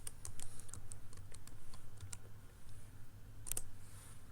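Keys clack on a computer keyboard during Excel data entry, a quick irregular run of close, crisp taps with a denser burst near the end, no voices.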